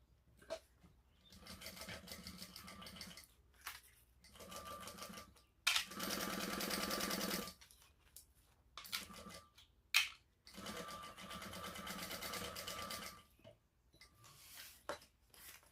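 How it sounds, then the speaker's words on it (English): A sewing machine stitches a fabric shoulder bag in short, steady whirring runs separated by brief pauses, close up and fairly quiet, with a sharp click or two between bursts. "I'm going to just stitch all the way up here and the other side"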